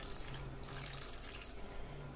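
Water runs from a tap into a pressure cooker holding ten to twelve bananas for steaming, a soft, steady pouring stream close by with no talking.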